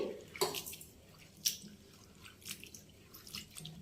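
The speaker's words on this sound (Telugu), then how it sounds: "ఇలాగ బౌల్లోకి వేసుకున్న తర్వాత కొద్దిగా నీళ్లు పోసుకొని శుభ్రంగా కడిగి పక్కన తీసుకోవాలి" Potatoes being rinsed by hand in a bowl of water in a kitchen, with soft close splashes, drips and wet squishing sounds coming in small irregular bursts, no talking.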